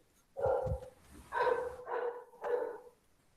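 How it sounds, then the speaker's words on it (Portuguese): A dog barks four times in short, evenly spaced yaps, close and fairly clear, with a quiet room and no talk over it. "O cachorro aqui está só latindo."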